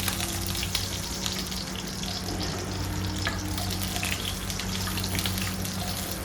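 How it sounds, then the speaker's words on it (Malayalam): Cashews and raisins frying in hot fat while being stirred for rava kesari, a steady close sizzle with light scraping stir sounds running throughout, no voices. "എന്നിട്ട് നന്നായി ഇളക്കി അത് നന്നായി വറുത്തെടുക്കാം"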